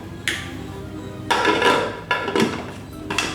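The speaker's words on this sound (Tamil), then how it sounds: "குக்கர் மூடி மூடிட்டு" A pressure cooker lid being closed in a home kitchen: a few sharp metallic clanks and clinks in quick succession, close and fairly loud, with no talking.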